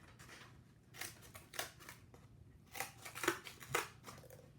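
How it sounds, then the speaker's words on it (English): Scissors snip through cardboard to cut out random shapes, a series of faint, close crunching cuts in uneven rhythm against a quiet room, with no talking. "go ahead and start cutting the cardboard without drawing shapes first"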